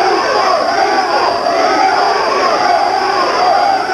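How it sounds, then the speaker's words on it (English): A boxing arena crowd roars and chants the fighter Vito's name during a middleweight title bout, a dense, loud wall of yelling and cheering with no pause. "Crowd is yelling, Vito,"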